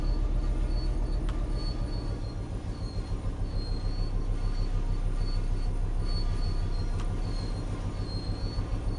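Train running along the track in Train Sim World 5, a steady rolling rumble with faint high brake or wheel squeal tones recurring, loud and continuous with no talk.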